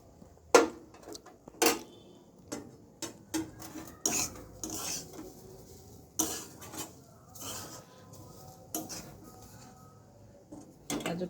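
Carrots are added gradually to milk in a cooking pot, heard as a scattered series of close clinks, taps and scrapes of utensils against the pot in a quiet kitchen.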